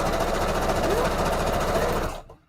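A sewing machine runs a straight stitch in a fast, even mechanical rattle, loud and close, then stops abruptly near the end.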